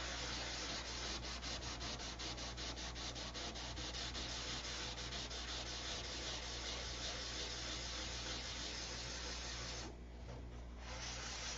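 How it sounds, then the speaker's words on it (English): Steady, continuous sanding against wood, a close abrasive rasp that runs unbroken for the whole stretch with only a brief easing near the end, the surface starting to show black. "We get 6 minutes to sand."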